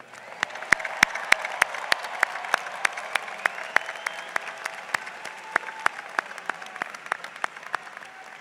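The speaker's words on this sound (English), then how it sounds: "how about one more big round of applause to the graduates for now?" Scattered, fairly distant claps ring out for graduates at a Texas BBA commencement ceremony, with sharp individual hand claps standing out over a soft crowd murmur.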